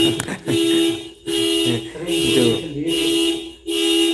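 A car alarm going off by itself, a loud repeating electronic tone that cuts out and restarts in bursts, with a voice speaking briefly over it.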